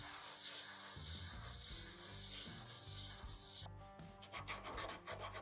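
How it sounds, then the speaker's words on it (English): Sandpaper rubs over a small wooden engagement ring box during final sanding, a close, continuous rasping scrub that shifts to shorter rhythmic strokes near the end. "Now we've just got some final sanding with some sandpaper to clean the thing up,"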